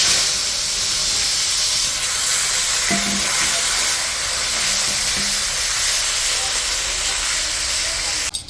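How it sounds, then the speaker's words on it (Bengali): Potatoes frying in hot oil with whole cumin for a hilsa fish curry with potato and eggplant, a steady loud sizzle and hiss running throughout with faint stirring clinks near the middle. "আলুটা ভাজা হয়ে গেছে আলুটা ভাজা হয়ে গেছে"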